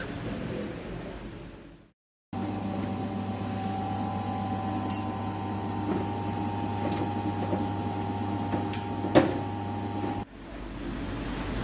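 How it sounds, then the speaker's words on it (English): A parts washer runs in a workshop cleaning Lancia Prisma HF integrale engine parts such as valve lifters, bearings and crank, a steady mechanical hum and whir with a brief cutout near the start and faint clicks and knocks. "that's the parts washer doing its job at the moment"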